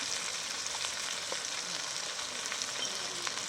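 Chicken with ginger, garlic and turmeric frying in a pan, a steady hissing sizzle with faint crackles and spatter throughout.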